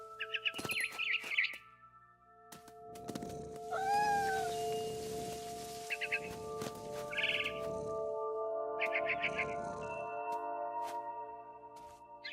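A cat meows and caterwauls with rising, wavering cries, interspersed with short barn swallow chirps, over a steady synthetic soundtrack in What Remains of Edith Finch.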